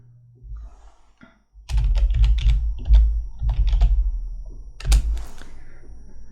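A keyword is typed on a computer keyboard: close, crisp keystrokes in quick irregular bursts, with short pauses between words and no speech.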